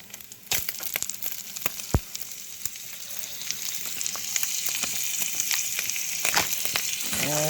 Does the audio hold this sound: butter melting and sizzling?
yes